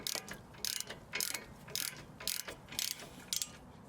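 A ratchet breaker bar clicks rapidly in short repeated bursts while tightening a rear brake bolt on a 2010-2014 Ford Mustang, close and crisp, about seven even ratcheting strokes with no talking.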